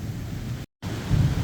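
Heavy rain pours steadily while thunder rumbles low and deep in a storm with gusting wind; the roar breaks off briefly, then returns and swells louder toward the end, with no voices.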